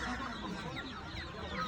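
Broiler chickens and chicks cluck and chatter in a dense, continuous mass at a Tuesday livestock market, with steady crowd noise underneath throughout.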